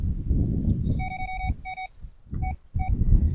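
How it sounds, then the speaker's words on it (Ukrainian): Electronic beeping in short bursts from a carp fishing bite timer, repeating several times, sits over background talk and outdoor noise at a carp fishing competition. "Ну, це ще які таймери модні."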